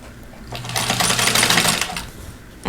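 Sewing machine stitching a 1.5 by 4.5 inch fabric strip, with a close, steady mechanical whir that rises for about a second and a half and then slows and stops.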